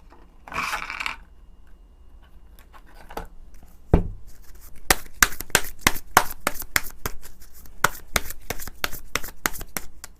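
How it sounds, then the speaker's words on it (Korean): Tarot cards shuffled by hand before three are drawn: a soft riffle near the start, then a long run of sharp, rapid card slaps and flicks at close range, loud and uneven, with no talking. "2개월 단위의 6개월까지의 흐름 3장 카드 뽑아볼게요."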